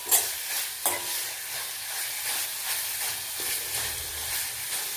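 Soya curry cooking in oil in a pan hisses and sizzles steadily while it is stirred, with occasional soft knocks of the spoon against the pan and no speech.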